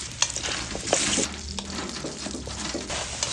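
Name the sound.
frying squid rolls and tempura in hot oil in a pan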